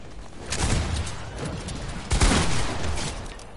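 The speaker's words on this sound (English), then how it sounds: "I should really stop shooting because I'm running out of shotgun shells" Shotgun blasts in Fortnite, two loud booming shots a couple of seconds apart, close and punchy over ongoing game noise.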